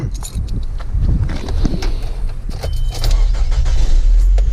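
A truck engine being checked for a leak cranks and catches after a faint jingle of keys, then settles into a close, steady low rumble.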